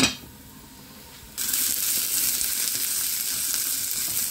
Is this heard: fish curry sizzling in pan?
yes